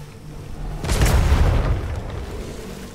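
A single deep cannon boom from a ship in the video game Atlas, loud and close, swelling for about a second before rumbling away.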